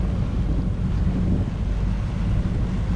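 Choppy water slapping and wind buffeting a boat out on a busy, rough stretch toward Port Orchard, heard from the back of the cockpit as a steady, dense rush of wave wash and wind noise with no talk.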